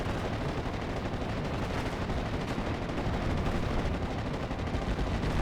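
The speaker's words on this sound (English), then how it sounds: "thanks to all the supporting MG fire" Machine gun fire in a Company of Heroes-style World War II strategy game: dense, continuous rattling bursts blending into a steady roar of gunfire at moderate distance, with no talking.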